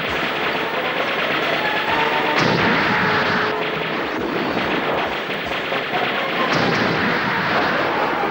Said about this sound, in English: set the laser cannon to maximum force and fire.